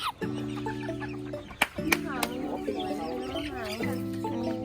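A small Serama chicken clucks in repeated short bursts, close and fairly quiet, with a couple of sharp taps between calls.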